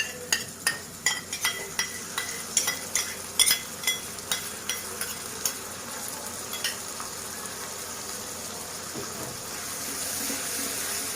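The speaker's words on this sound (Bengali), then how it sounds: "ভেজে নিচ্ছে এটাকে খুব সুন্দর করে" Spice masala fries with beaten curd in a pan for chicken malai kofta, a run of rhythmic spoon scrapes and taps giving way to a steady, close sizzle, with no talking.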